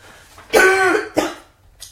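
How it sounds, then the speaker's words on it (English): A person coughs twice, a strong harsh cough followed by a shorter one, with a faint trailing sound after. "I started to cough at the end of that"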